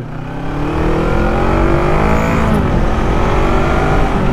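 An FKM Falcon X400 motorcycle engine accelerating, a loud, steady, rising engine drone close by that swells in the first half second and then holds strong with no speech.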